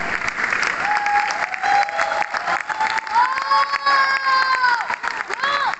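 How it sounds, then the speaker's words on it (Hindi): An audience bursts into applause and cheering after a live sand art performance with musicians, dense clapping with whoops and shouts, and a sung or spoken voice rising over the crowd. "ये मास्टरपीस के लिए एक बार जोरदार तालियां हो जाए।"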